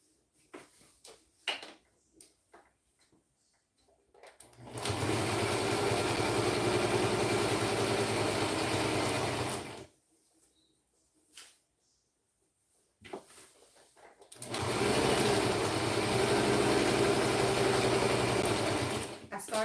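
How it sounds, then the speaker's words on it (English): A sewing machine stitching a fabric Santa sack runs in two long steady bursts of fast mechanical whirring, close and loud, separated by a quiet pause with light handling clicks. "And I do like to sew quickly."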